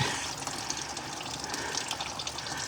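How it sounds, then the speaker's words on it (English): Coolant water drains steadily out of a Willys CJ3B radiator and cooling system, a continuous close splashing gush that holds even and unbroken throughout, with no voices. "while the water's running out of the radiator and the cooling system"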